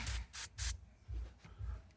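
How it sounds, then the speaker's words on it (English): A rag rubs and wipes a car part after a spray of cleaner during an aftermarket horn button install, heard as soft, repeated scrubbing strokes close by, fairly quiet, with no talking. "We're gonna clean this off with some spray."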